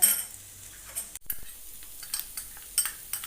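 A spatula stirs dry-roasted ground chilli into a pointed gourd mash in a pan: soft scraping and light tapping clicks repeat irregularly, faint and close, with no talking.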